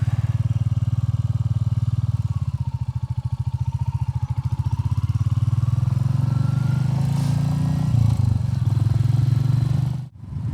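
A Royal Enfield Classic 350 motorcycle thumps steadily at cruising speed, its single-cylinder engine loud and close with wind rush over it, briefly dipping near the end.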